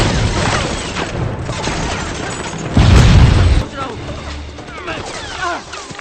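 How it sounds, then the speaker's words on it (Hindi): Scattered gunshots crack amid a noisy, chaotic scene, with a louder burst of rapid fire in the middle and voices mixed in. "हम पर गोलियां चल रही हैं।"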